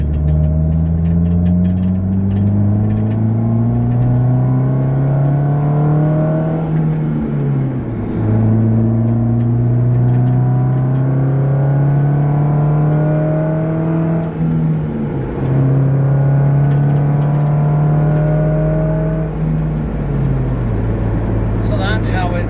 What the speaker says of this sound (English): So I'm going to do an acceleration here, going from this corner.